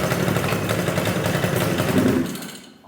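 A go-kart engine, a machine said to reach over 100 mph, idles at close range with a steady low rumble that holds for about two seconds before fading away at the end.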